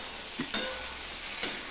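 Sliced potatoes and onions fry in a pan with small fish chorchori, giving a steady soft sizzle close by, broken by two brief scraping stirs, with no talking.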